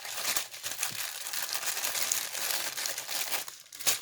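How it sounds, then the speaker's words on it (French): Crinkly paper packaging being unwrapped from a diamond painting kit, with close, loud crumpling and tearing rustles coming in irregular bursts, no talk. "ça fait du bruit, mais forcément quand on déballe ce genre de papier"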